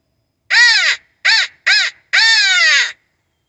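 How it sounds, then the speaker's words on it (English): Four loud, harsh crow caws ring out close by in an Indiana evening during crow season, the last call drawn out longest, with silence between each. "We had crows calling close, crows calling far away."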